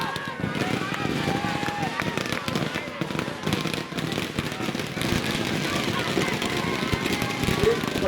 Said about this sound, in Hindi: पटाखे हैं